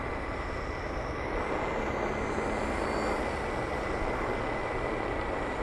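A Timber X 1.2 RC airplane flies overhead. Its motor gives a faint, continuous buzzing drone that holds steady throughout with no pauses.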